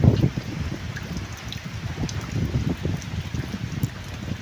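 Steady rain falls with a dense, hissing patter in cold weather outdoors in rural Thailand, mixed with low rumbling noise that could be wind against the microphone.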